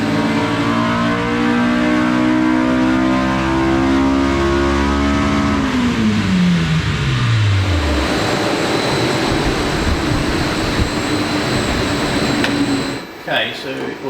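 A Honda K20A engine fitted with JDM DC5 camshafts revs hard on a dyno, its loud note climbing steadily in pitch through the rev range before cutting off abruptly near the end.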